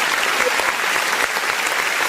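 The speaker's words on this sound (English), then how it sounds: "Let me clap for you all." Loud, dense audience applause fills a hall at a political gathering, a brief continuous burst of many hands clapping close by.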